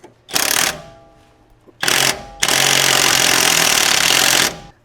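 Power tool drives a bolt into a front shock on a 2025 Chevy Silverado 2500 HD: two short whirring bursts, then a longer sustained buzzing run of about two seconds, loud and close.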